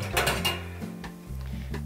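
Dishes and pots clatter against a stand-style dish drying rack in a kitchen, a run of close, bright clinks and knocks over about two seconds, with no talking.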